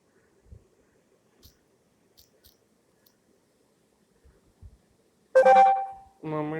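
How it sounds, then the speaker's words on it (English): A mobile phone notification chime sounds near the end, a short bright tonal alert followed by a second tone, after faint tapping and clicks from typing on the phone's bid app. "I get a notification in my mobile."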